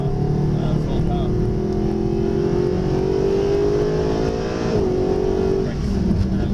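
A Mercedes SLS AMG on a track accelerates hard at full power, its engine note rising steadily and loud in the cabin, with a brief shift dip and an instructor talking over it.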